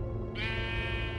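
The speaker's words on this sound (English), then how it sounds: "A sheep?" A sheep bleats in the Minecraft Story Mode video game, a single sustained, wavering cry over a steady background hum.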